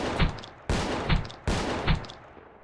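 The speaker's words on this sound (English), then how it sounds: "So in order to shoot a gun like a Kamer, you just pick it up and shoot it." Three evenly spaced shots boom from a Kamer pump-action shotgun in the video game Space Station 14, each a sharp loud blast with a short tail and a faint click between.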